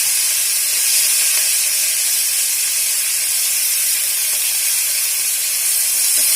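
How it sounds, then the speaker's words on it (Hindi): Broad beans (sem phali) frying in a pan with green chillies, a loud, steady, even hiss of sizzling oil running throughout without pause or voices. "सेम फली को हम अच्छे से फ्राई करना है"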